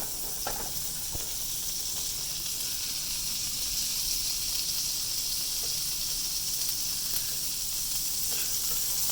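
Apple pancakes fry in oil in a cast iron skillet, giving off a steady, bright sizzle and hiss that holds evenly throughout, close and fairly loud with faint pops, and no talking.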